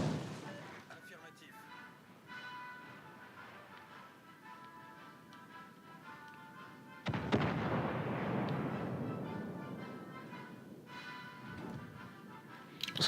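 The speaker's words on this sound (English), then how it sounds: "There's the Albemarle. Firing HE this time." The ship Albemarle fires high-explosive shells in World of Warships: Legends, a heavy booming salvo that bursts out mid-way and rumbles off slowly over low game ambience, with a person talking.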